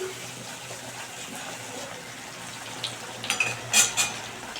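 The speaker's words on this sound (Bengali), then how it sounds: "এবারে ঢাকনাটা আমি খুলছি খুলে আবার একটু মশলাটাকে মিশিয়ে নিচ্ছি" Spices stirred in a pot for egg curry make a soft, low background of cooking noise, then a cluster of sharp spoon-on-metal clinks near the end.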